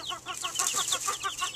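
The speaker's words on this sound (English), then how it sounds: "The existing hens are very interested in the baby chicks." Farm hens clucking near newly arrived baby chicks: a rapid series of close, loud, chattering clucks and short calls repeating in a quick, uneven rhythm with no talking.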